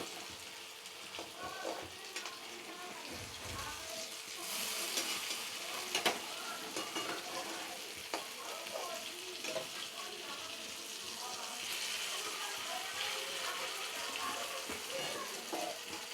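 Sesame fritters (til bora) fry in oil on medium heat, a soft, steady crackling sizzle heard fairly faint, with occasional clinks and some talking in the background.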